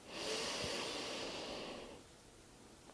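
A person breathing audibly during a gentle yoga session, one long, close, hissing exhale that fades toward silence, ending with a brief sharp sound.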